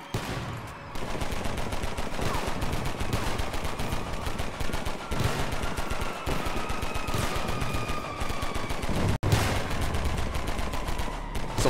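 Dense, sustained machine gun fire in the Roblox war game Shell Shock, rapid shots rattling on without pause through a loud, chaotic battle, broken by one brief gap near the end.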